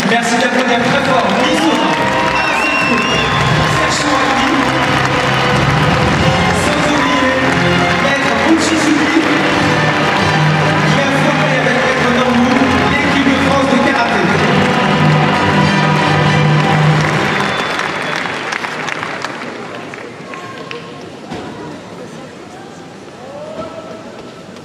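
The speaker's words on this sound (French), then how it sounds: "Merci d'applaudir très fort." A big arena crowd at a karate event in Bercy applauds and cheers loudly, a dense roar of clapping and voices mixed with music that fades toward the end.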